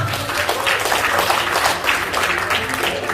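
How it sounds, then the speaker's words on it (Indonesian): An audience claps steadily and loudly for motorcycle and car prize winners at an event in Denpasar, Bali, a dense, continuous wash of applause with no speech over it. "Tepuk tangan Bapak Ibu untuk peraih motor dan mobil di Denpasar Bali"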